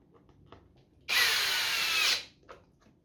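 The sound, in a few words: power drill running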